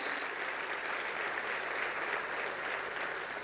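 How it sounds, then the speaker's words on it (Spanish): Church congregation gives steady applause for the Lord during a general worship service, an even wash of clapping heard at moderate distance throughout. "Dale un aplauso al Señor"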